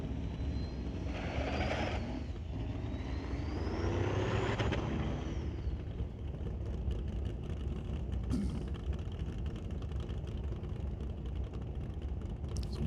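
A Duramax diesel race truck at a qualifying drag event builds boost, with a rising turbo whistle over a deep rumbling engine heard from a distance, followed by steady broad roar and crowd ambience.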